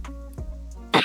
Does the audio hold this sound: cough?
yes